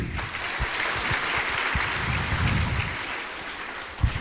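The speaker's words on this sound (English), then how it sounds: "Huge round of applause, please." Audience applause at a university orientation program in a large hall, sustained dense clapping from many people, with a brief louder thump near the end.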